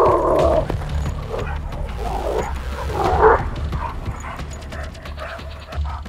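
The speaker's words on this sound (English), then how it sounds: "You can hear his throat, his trachea, his larynx having that pressure." A German Shepherd strains against its leash, giving strained, raspy throat sounds and short whimpering vocal bursts, close and fairly loud, with a low background hum.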